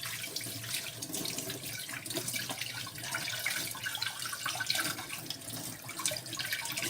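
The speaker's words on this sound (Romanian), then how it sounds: "Haide că mă spăl pe mâini" Running tap water splashes steadily into a kitchen sink as someone washes their hands, a continuous close hiss of flowing water with no talking.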